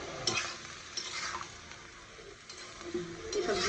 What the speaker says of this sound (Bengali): এই সবজিটা আমি তেলে ভাজি করে নেব